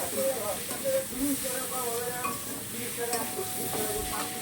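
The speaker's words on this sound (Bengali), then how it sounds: "এবার এটাকে ভালো করে নাড়তে হবে, লাল লাল করে ফেলতে হবে নাড়াচাড়া দিয়ে।" Onions fried and stirred in a pan with ground cumin, a constant hissing sizzle with scraping stir strokes close by, while a voice speaks faintly over parts of it.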